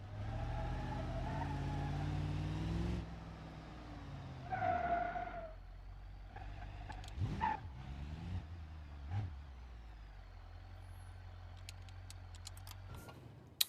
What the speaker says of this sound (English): Alright, it spins the tires if you let it get loose.